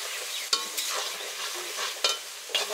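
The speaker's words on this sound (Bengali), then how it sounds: "মশলাটা ভালো করে কষানো হয়ে গেছে" A ginger, garlic and cumin paste with chili powder, turmeric and salt sizzles in a pan for a hilsa and eggplant curry, with a steady frying hiss broken by several scraping stirs of a spatula, close and without talk.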